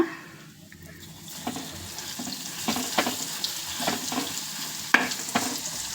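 Ground garlic paste hits hot oil with cumin in a pan, giving a steady close sizzle broken by sharp crackles and stirring scrapes, with no one talking.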